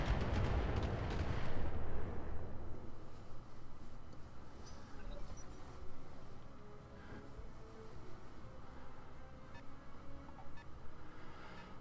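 Missiles launch and burst in a mech battle game, a loud rumbling barrage at first that fades into a lower, continuous roar of distant blasts and engine noise.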